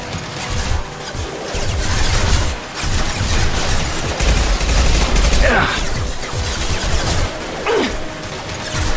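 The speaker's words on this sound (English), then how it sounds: "Firing now." Rapid, dense gunfire comes from the Mass Effect 2 video game on Insanity difficulty. It is a loud, continuous fusillade of shots and impacts with mechanical clatter, and a voice speaks faintly underneath.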